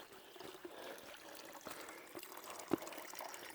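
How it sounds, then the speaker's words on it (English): A thin stream of spring water trickles from a small PVC pipe, about a nine-inch drop, making a soft, quiet, steady dribble with a few brighter splashes. "Oh, that's got a pretty good trickle to it"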